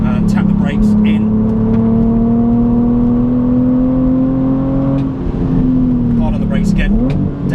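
A BMW Z4 on a track day braking hard and downshifting into third, the engine note loud and close as revs swing and blip with each gear change.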